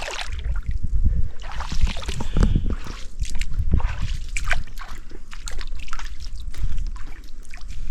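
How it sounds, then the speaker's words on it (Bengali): Fast tidal water rushes and splashes around the legs of a person wading through the sea while crab hunting on a camping trip, a continuous close sloshing with trickles and splatters. "আর জলের স্পিড এমন লাগে জানি সুনামি আসছে।"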